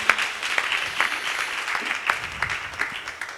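Crowd applause at a gospel music competition semi-final, a steady wash of many hands clapping with scattered sharper claps and cheers, sustained throughout at moderate distance.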